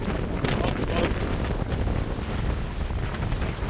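Wind howls across a sailboat at sea, a steady, loud, full-bodied roar with gusty swells that never lets up, with no voices over it.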